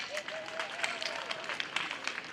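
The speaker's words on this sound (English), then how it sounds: "You guys should clap for the graduates." Audience applauding graduates at a university graduation ceremony, dense steady clapping from a large crowd filling the space, with a brief faint tone running under it.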